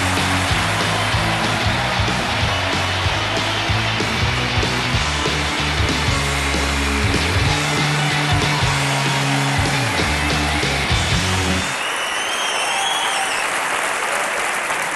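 Sustained, dense applause from a comedy club audience at a stand-up show, steady and loud for about twelve seconds before cutting off to quieter room noise.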